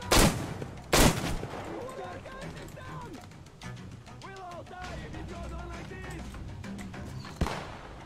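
Gunfire in Metro Exodus: two loud close shots open the scene, followed by lighter mechanical clatter and game voices, with one more sharp shot near the end.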